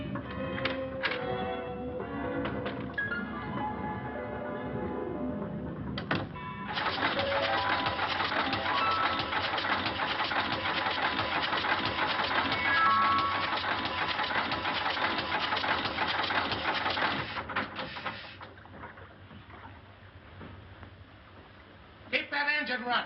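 A boat engine runs steadily and loudly through most of the stretch, a dense mechanical drone under a 1941 film soundtrack, with voices and some clattering before it and a drop in level near the end.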